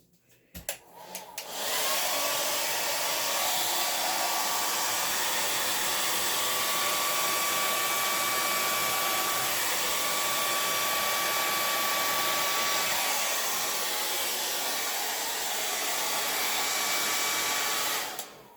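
Hair dryer blowing acrylic paint across a canvas in a Dutch pour, a steady loud roaring whoosh running continuously after a brief start.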